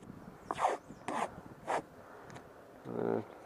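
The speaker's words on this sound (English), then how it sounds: "Just took a little bit of tape, ran it around there" Tape pulled off a roll and wrapped around a small gun part, such as a Scarab arm or magazine follower, before painting, heard as a few short close ripping bursts and a longer pull near the end.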